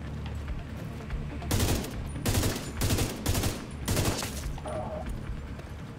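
Rapid bursts of rifle fire in The Division 2, several sharp volleys in quick succession with brief gaps between them, loud and close, with no talk over them.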